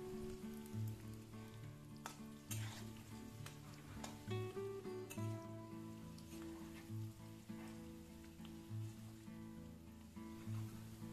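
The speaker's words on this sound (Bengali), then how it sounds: "সেদ্ধ আলুগুলো এবারে ভেজে নেব।" Boiled potatoes frying in oil with a little salt and turmeric, a faint, steady sizzle with soft intermittent pops and stirring sounds throughout.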